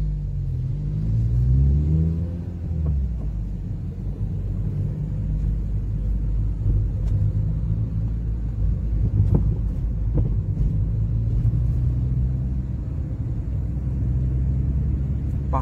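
A car accelerates steadily during a driving lesson on the road to Çankaya, giving a loud, continuous engine rumble with rising revs, heard from inside the cabin with wind buffeting the microphone.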